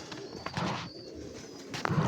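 Soft pigeon cooing close by, low throaty coos repeating over faint background rustle.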